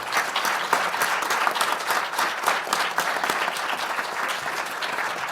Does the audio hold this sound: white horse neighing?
no